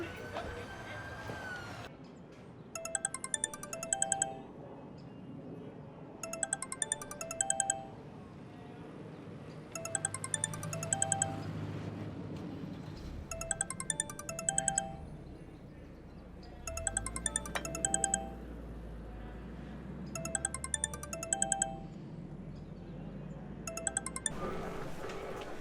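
A mobile phone rings repeatedly without being answered, its bright electronic ringtone bursting out in regular cycles over several seconds, with low background noise and a steady hum under it.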